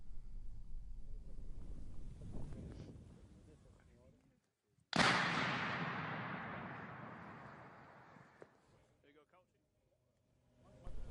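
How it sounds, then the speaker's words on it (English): Old landmines detonated in the distance: one heavy boom abruptly breaks a quiet spell, then rolls and decays slowly over several seconds, with wind noise and outdoor rumble before it. "We're told that it's the sight and sound of old landmines being detonated and destroyed."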